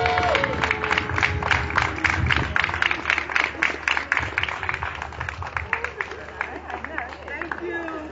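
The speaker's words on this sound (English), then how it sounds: "I would love if you guys would clap for them." An audience at a fundraiser claps, a brisk, uneven patter of many hands with some cheering, voices chattering underneath as the clapping gradually softens.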